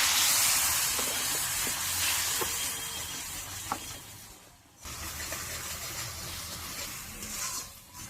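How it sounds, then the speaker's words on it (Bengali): Masala spices, including Kashmiri red chilli and salt, sizzle in a pan while being stirred and fried for a chicken kofta korma gravy, a constant close hiss with faint scraping clicks and a brief dip midway. "এইবার মশলাটাকে ভালো করে কষিয়ে নেব।"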